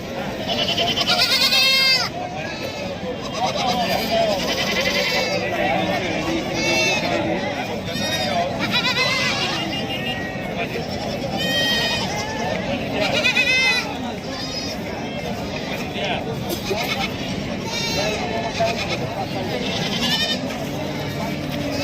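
Many goats bleat repeatedly over a busy crowd at the goat and sheep market in Sangola, Maharashtra, with people talking throughout and the calls coming from near and far.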